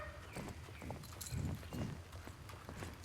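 Pony hooves clip-clop at a walking pace in the Star Stable Online video game, a steady run of soft thuds under a low background music bed.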